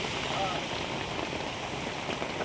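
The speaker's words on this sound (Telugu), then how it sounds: "ఇంత సడన్గా ఉండి ఒకసారి వాన పడుతుంది" Heavy, sudden rain pours down steadily, a dense even hiss of drops striking surfaces nearby with no break.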